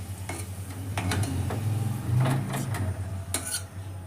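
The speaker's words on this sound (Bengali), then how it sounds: "এবার আলুটাকেও আমি একটু লাল লাল করে ভেজে নিচ্ছি" Potatoes frying in hot oil until reddish for a katla fish curry, with a steady low sizzle, occasional stirring and soft clinks of a utensil against the pan.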